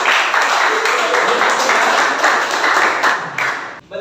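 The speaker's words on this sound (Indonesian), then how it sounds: "tepuk tangan untuk Denny" Classroom students clapping for a classmate, dense continuous applause that fades out near the end, followed by a voice starting to speak.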